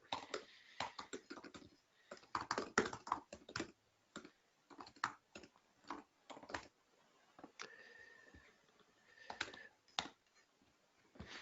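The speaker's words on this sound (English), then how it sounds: "Let me just type an answer here." Someone types on a computer keyboard in irregular bursts of quick, close clicks with short pauses between runs, fairly faint and alone, no talking.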